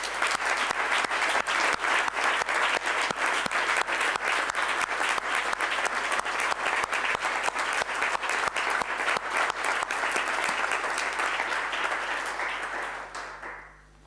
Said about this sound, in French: Merci de bien vouloir l'applaudir.